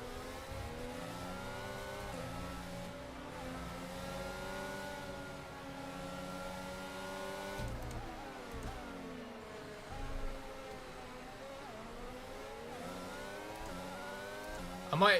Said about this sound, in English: The noise of the Ferrari is incredible.